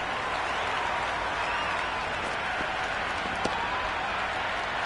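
Stadium crowd at a T20 World Cup cricket match in Colombo, Australia vs Zimbabwe, cheering and applauding a four struck to the boundary, a dense sustained roar throughout with no speech.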